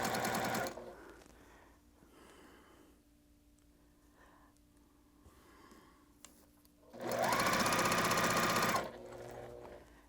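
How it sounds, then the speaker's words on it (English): A sewing machine stitches quilt pieces in a loud, fast, even whir, running in two bursts with quiet handling of fabric between them. "when you're sewing through your machine, a light touch is best."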